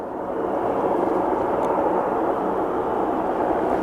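An airplane at Aberdeen Airport gives off a steady, broad jet roar that holds at an even, fairly loud level throughout, with no one talking.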